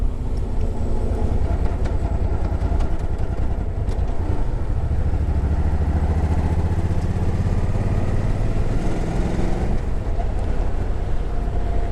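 A 2006 Suzuki Boulevard C90 cruiser rumbles steadily in gear, its low engine drone rising and falling with throttle and blended with wind rush and road noise over about twelve seconds.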